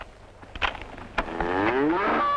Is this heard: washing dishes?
no